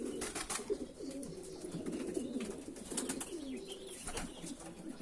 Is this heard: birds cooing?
yes